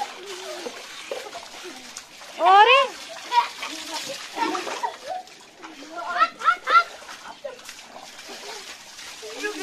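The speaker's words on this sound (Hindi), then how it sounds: "कितना पानी वेस्ट हो रहा है देखिए" Water gushing and splashing over from a rooftop tank, wasted as it pours, with bright splashy bursts rising and falling under excited children's and adults' voices.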